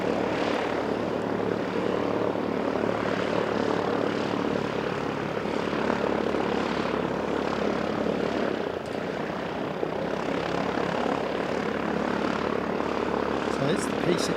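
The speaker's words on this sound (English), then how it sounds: "So that's the P68 one that we, NZ Aviation Academy do their multi-engine." A Tecnam P68 twin-engine propeller aircraft of the NZ Aviation Academy flies past with a loud, sustained engine drone that holds steady throughout, nearby and dominant, with no other sounds over it.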